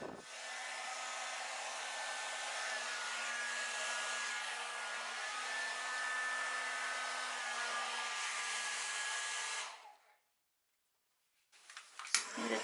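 Hair dryer blowing steadily on thinned, fluid acrylic paint during a Dutch pour, loud and close for about ten seconds, then cutting off into silence before a brief burst of handling noise.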